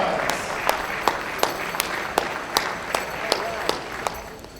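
A crowd applauds at a youth sports awards breakfast, steady clapping throughout with sharp individual claps standing out at regular intervals, a voice speaking faintly underneath.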